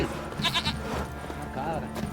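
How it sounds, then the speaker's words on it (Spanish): A goat bleats in The Witcher 3, a short wavering cry that repeats a few times at moderate volume over background game ambience. "Una cabra."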